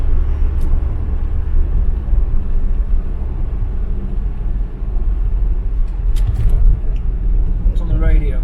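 A Ford Cortina MK3 with a Pinto engine and automatic gearbox cruises along, its steady low engine and road rumble continuous throughout, with a brief clatter near the end.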